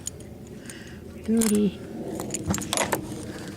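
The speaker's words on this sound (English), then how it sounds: "gotta grab my keys out here, guys." A bunch of keys jangles close by in a short metallic burst, followed moments later by a second shorter rattle, while someone talks nearby.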